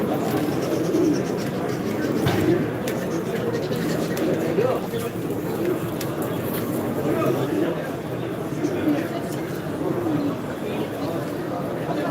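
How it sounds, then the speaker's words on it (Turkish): Many pigeons coo steadily at a festival in Adapazarı, a dense low warble that continues throughout under the constant murmur of crowd chatter and nearby voices. "Çok kuş var."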